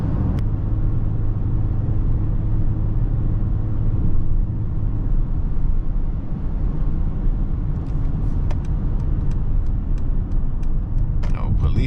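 A 2024 Mercedes-AMG GLE 53 turbo engine drones steadily while driving at night, a loud continuous low rumble with faint clicks near the end and no speech.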